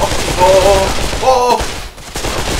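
Rifle fire in the VR shooter Pavlov VR comes as rapid close bursts of shots in two clusters separated by a brief pause, with further gunfire after a short dip.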